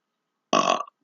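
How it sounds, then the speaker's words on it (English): A single loud, close burp lasting about half a second, heard alone during a mixed martial arts event review. "I just had the burps."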